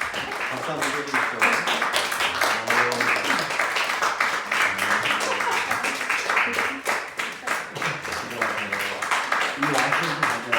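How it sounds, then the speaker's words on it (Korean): Congregation applauding during a Sunday church service, a sustained round of clapping lasting several seconds with voices talking over it. "박수 한번 해주십시오."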